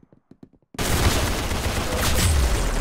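Rapid automatic gunfire in the Roblox game Arsenal, a loud dense burst that starts abruptly after a few faint clicks and continues without pause to the end.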